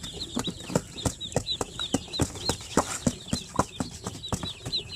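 Chickens with newly hatched chicks: a steady stream of high, rising peeps from the chicks, with soft clucks and pecking taps underneath, close by and continuous throughout.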